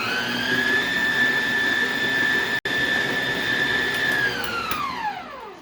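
An electric mixer runs at higher speed, mixing flour and milk into pound cake batter with a loud steady motor whine. It cuts out for an instant, carries on, then winds down, falling in pitch at the end.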